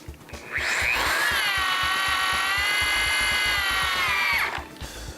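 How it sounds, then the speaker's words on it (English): A BAND IT Ultra-Lok tool tensions a clamp: its motor whines steadily and loudly, close by, for about three and a half seconds, then cuts off when the clutch releases. "Make sure when you're triggering the tool that you hold it down rather than feathering until the tool clutches out."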